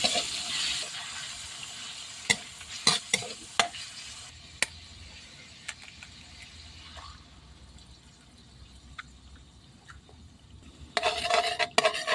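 Minced pork sizzles and is stirred in a pan while making pork fried rice, with sharp scraping clicks of a utensil, quieter frying in the middle and a louder burst near the end.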